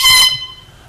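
A single short blast from an air horn, loud and close, cutting off after a quarter second and leaving a brief ringing decay.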